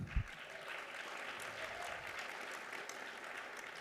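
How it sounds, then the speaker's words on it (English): Steady applause from an audience at a tribal mental health summit in Lawton, Oklahoma, an even wash of clapping that holds for a few seconds without voices over it. "I would like to have a big round of applause for Jennifer"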